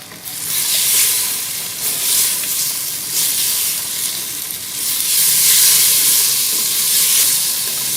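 Beef korma sizzles loudly in a pot with spices, black pepper and brown sugar, a hissing, steamy fry that swells and eases in waves with occasional stirring.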